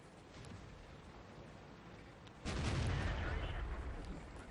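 Tank cannon fire from a T29 heavy tank in World of Tanks: one loud booming shot about halfway through, followed by a sustained rumbling tail over steady background noise.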